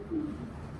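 A racing pigeon gives a single short, soft coo close by, over a quiet background.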